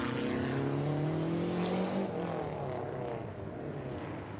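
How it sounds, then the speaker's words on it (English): A Lancia Stratos rally car is driven hard on a night run at Goodwood SpeedWeek, its engine a loud, continuous, close roar whose pitch sags slightly as the run goes on. "the Stratos is being driven with a great deal of commitment"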